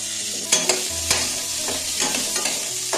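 Potatoes stirred into hot oil tempered with green chilies and whole spices, cooking for a vegetable paneer dish; a steady close sizzle with several scraping spatula strokes, no voices.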